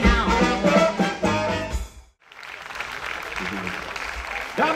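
Audience applause for a Czech band at a charity concert, starting under the final bars of music, dropping briefly, then swelling into a steady crowd clapping that carries on to the end.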